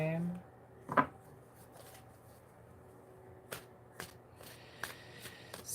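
Tarot cards being shuffled and handled in a quiet room, a sharp riffle near the start followed by sparse soft card snaps and taps, with speech present.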